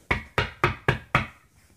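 Five sharp, evenly spaced knocks strike a door in quick succession, clear and close, then a brief fading ring with no voices.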